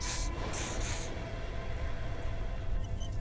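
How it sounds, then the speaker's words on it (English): In the video game Disco Elysium, a nose spray is used: a few short, close hissing spray bursts come first, then a soft rubbing texture settles in under low background game ambience. "I'm using the nose spray."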